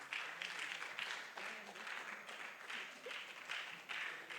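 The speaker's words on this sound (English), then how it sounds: "That was an amazing presentation, and it deserves a much louder applause." Applause from a workshop audience after a presentation on gender-based violence and sexual harassment, a fairly faint, distant clatter of many hands that swells and dips in waves.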